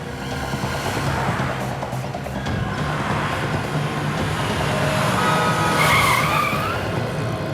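A taxi car pulls up with tires skidding, a steady loud rush of road and tire noise running throughout with a brighter screech swelling near the end.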